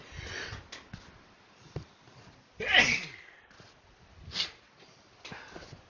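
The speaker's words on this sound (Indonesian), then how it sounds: "bersin" A single sharp human sneeze bursts out mid-clip, close and loud, with sniffs and breathy noises before and after it in a quiet room.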